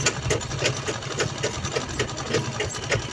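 A sewing machine stitches continuously on a small fabric mobile pouch, its needle beating out a fast, even rhythm at close range with no talking over it.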